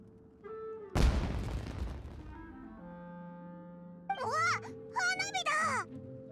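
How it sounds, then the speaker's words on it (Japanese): A sudden loud boom with a rumbling tail fades over a second, then synthetic tones and groaning, voice-like sounds follow. "あそこで何か爆発したぞ。"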